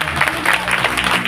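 An audience at a sports-ground event claps steadily and densely, a sustained crowd of hands filling the space with no break.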